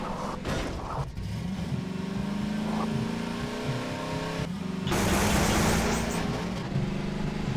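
A car engine hums steadily while driving in Half-Life 2, a sustained mid-pitched drone that shifts slightly in pitch and rises with a louder rushing surge near the end.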